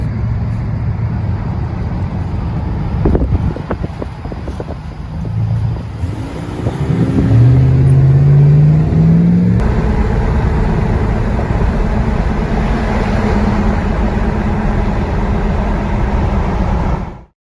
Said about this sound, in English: The only time you can really hear anything from this truck is when it's under acceleration.